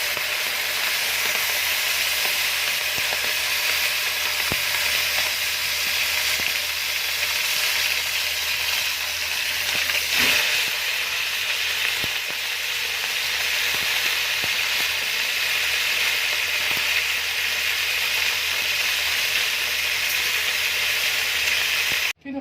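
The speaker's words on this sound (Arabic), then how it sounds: "كده هشوح الفرخاية" Chicken sizzles and fries steadily in a hot pan, a loud continuous hiss with faint stirring clicks and no talk, ending with a brief knock.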